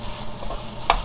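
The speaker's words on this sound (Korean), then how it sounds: "지금 다 볶아졌으니까 양념만 익으면 되는 거 이걸로." Dried pollock stir-fries with gochujang sauce in a pan, giving a soft sizzle with a utensil scrape and one sharper clack near the end, brief and close.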